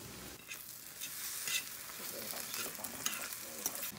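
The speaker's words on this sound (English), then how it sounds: "At this point, it's on high settings. You just keep stirring it." Food frying in a pan on high heat while being stirred: continuous close sizzle with scraping stir strokes and crackling bursts spread across the stretch, no speech.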